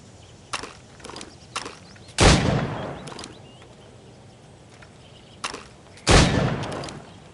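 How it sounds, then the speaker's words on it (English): Gunfire at targets in Assassin's Creed Rogue: two loud, booming shots about four seconds apart, each with a long rolling tail, and lighter clicks and thuds of handling the weapon in between. "Shoot these targets."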